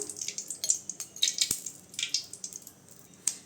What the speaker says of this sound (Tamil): சட்டி சூடாயிருச்சுங்க எண்ணெய் ஊற்றிக்கலாம்